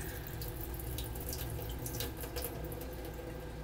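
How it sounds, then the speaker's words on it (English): Steady running water pours from a tap over raisins being rinsed, with faint splashing and a few brighter drips or sloshes, fairly quiet and continuous with no talking. "I think I'll do one more rinse after this, and then that'll be it for cleaning up the raisins"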